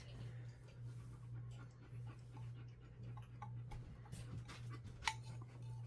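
A Doberman pants steadily close by indoors, rapid rhythmic breaths over a constant low hum, with a faint whimper and a sharp tap near the end.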